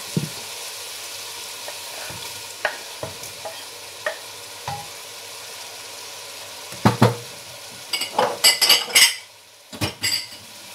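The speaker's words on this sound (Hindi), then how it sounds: "यहाँ मैंने टमाटर भी डाल दिया।" Tomatoes go into a hot pan for chana pulao: scattered metal clinks and utensil taps on the pot, then a burst of loud crackling sizzle and scraping near the end, with no talking.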